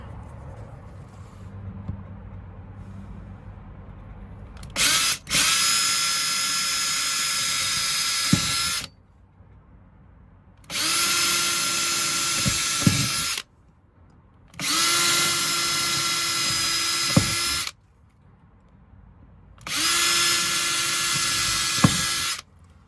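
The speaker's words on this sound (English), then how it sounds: "ready to drill" A power drill whines loudly in four bursts of a few seconds each, separated by short pauses, biting through a sailboat's fiberglass close to the microphone.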